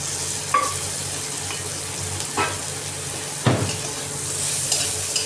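Bitter gourd curry with onion fries in heated oil, a steady close sizzle broken by a few sharp scrapes and clinks of a spoon stirring in the pan.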